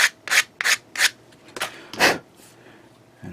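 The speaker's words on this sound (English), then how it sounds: "sanding it down a bit so it's nice and even" Sandpaper rubbed on a small plastic Gunpla model part, about seven quick close scratchy strokes in an uneven rhythm with short pauses between them.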